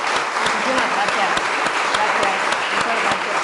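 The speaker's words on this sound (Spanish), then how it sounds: "le dediquemos un fuerte aplauso." Strong applause from a literary festival audience in Lanzarote after a talk with an author: loud, sustained crowd clapping with a few sharp, distinct claps standing out close by, steady throughout.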